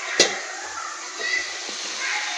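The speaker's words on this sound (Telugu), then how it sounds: "బాగా వేగింది చికెను" Chicken fries in a pan with a soft, steady sizzle, close and fairly quiet, broken by a sharp clack of a utensil near the start and a few faint knocks.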